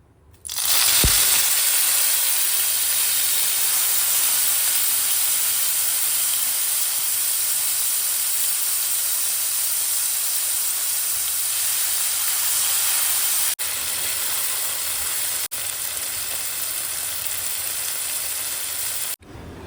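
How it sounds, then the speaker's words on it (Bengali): Small whole prawns frying in hot oil, giving a loud, dense, unbroken hiss of sizzling that runs steadily for the whole stretch after a brief quiet start. "ফার্স্ট টাইমে চিংড়ি মাছগুলো ভেজে নিয়েছি"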